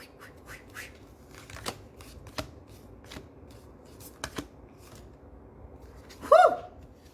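A deck of tarot-style cards being shuffled by hand, soft riffling and tapping close by with scattered sharp clicks, ending in a louder quick flurry of shuffling, no talking.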